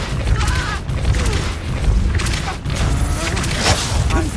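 Confringo and Depulso spells cast in Hogwarts Legacy: a string of booming blasts and thuds with whooshing magical bursts and crackles in between, loud and close, amid game noise.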